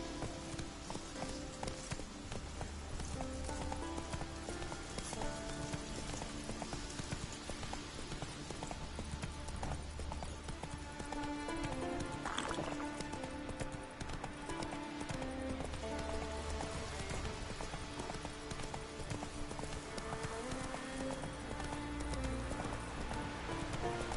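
In The Witcher 3, the horse Roach gallops with a rapid, steady clip-clop of hooves that runs throughout, set over a constant game backdrop.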